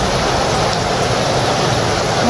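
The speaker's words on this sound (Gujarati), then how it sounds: "ચોકન વરસાદ પડે છે" Heavy monsoon rain pours down loudly and steadily, a dense, unbroken hiss filling the whole stretch with no voices.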